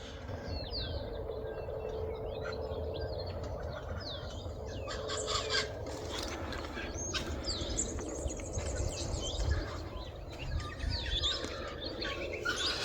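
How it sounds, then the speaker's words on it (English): Many birds chirp and call outdoors at sunrise among red gums and banksia bushes, overlapping trills and whistles over a steady low rumble of wind or water, continuous throughout. "You can hear the birds."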